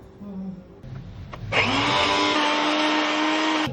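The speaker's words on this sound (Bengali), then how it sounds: "মিক্সারে দিয়ে দিয়েছি, এবার এটাকে বেটে নিতে হবে" A mixer grinder blends taro leaves with green chillies and garlic. Faint kitchen handling sounds come first, then the motor kicks in with a loud, steady, close whirring grind that holds to the end.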